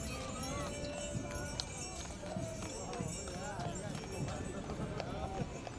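Rescued horses giving sleigh rides clip-clop steadily along the Dover holiday parade route, the hoofbeats close and continuous beneath a commentator's talk and crowd noise.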